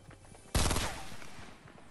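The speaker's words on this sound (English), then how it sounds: "He's shooting." Gunfire in Fortnite, a sudden loud burst of rapid shots that fades into a decaying rumble, with faint game ambience before it.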